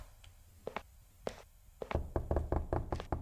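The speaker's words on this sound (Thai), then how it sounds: "เคาะแล้วไม่มีใครตอบ" Knocking on a door in the horror video game Introvert: a series of sharp knocks, a few spaced taps then a quicker run of louder raps, close and clear with no talk.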